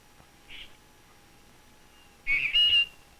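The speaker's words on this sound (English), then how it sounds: "so now we're listening to like bird calls" Bird calls of Galapagos finches on Tower Island, one short faint chirp followed by a louder burst of two quick whistled notes, alone over a quiet background.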